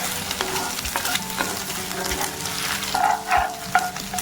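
Eggs with a little salt are scrambled in a pan: a spatula stirs and scrapes in uneven strokes over a soft, steady sizzle, with no talking.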